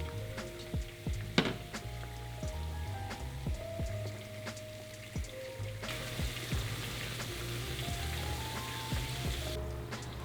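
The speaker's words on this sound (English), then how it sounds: "When the spices start to generate bubbles, monitor, and if the spices sizzle more dramatically, reduce the heat to cool it down." Whole spices frying in oil in a pan for Chinese chili oil, a quiet, steady crackle of fine bubbling and tiny pops with a few sharper clicks, close up and soft, no talking.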